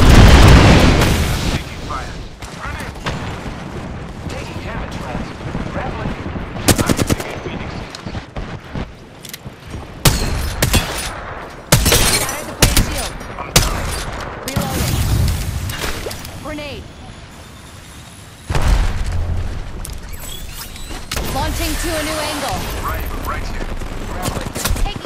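Rampage machine gun firing in Apex Legends, with loud sustained bursts and several sharp blasts spread across a hectic firefight, voices heard over the shooting.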